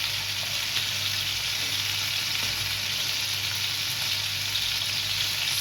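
Broiler chicken pieces frying in a pan, a loud, even sizzle that holds steady throughout, close and without voices.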